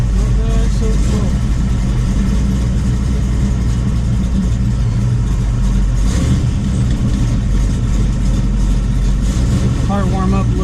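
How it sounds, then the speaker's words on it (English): A 1968 Chevrolet Nova SS V8 warms up at idle, a loud, steady low rumble with a slight rev partway through and someone speaking over it. "Car warm up a little bit."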